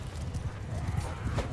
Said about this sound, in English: And there's still a heck of a lot of horse running around here.